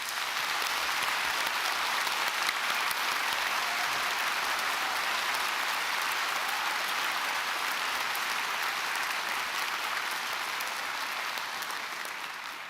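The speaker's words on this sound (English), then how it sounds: "And we'll give them a big round of applause." Graduation ceremony applause at Dublin City University, a broad, sustained roll of clapping from a large audience, steady and full for the whole stretch before easing slightly at the very end.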